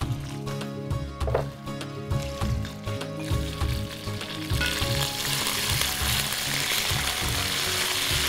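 Ginger garlic paste hits a hot pan and sizzles loudly, with rhythmic stirring and scraping against the pan that build into a steady, dense frying hiss.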